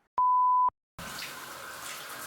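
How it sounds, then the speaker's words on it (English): Water running to saturate 4C/4B hair on wash day: a short electronic beep first, then a steady, close hiss of flowing water. "So I'm first going to saturate my hair with water"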